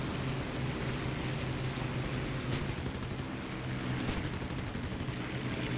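Aircraft cannon in the War Thunder flight game loosing two brief rattling bursts over steady engine and wind roar, fairly distant in the mix, with nobody speaking.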